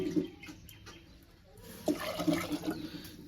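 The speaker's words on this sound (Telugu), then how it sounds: "వేడెక్కిన తర్వాత వాటర్ వేసుకోవాలి. ఫుల్లుగా వేసుకోవాలి వాటరు." Water is poured into a well-heated clay pot while ragi flour thopa is cooked the traditional Adivasi way. It sounds like a close, continuous rush and splash, quieter at first and then swelling louder and choppier partway through, with no talking.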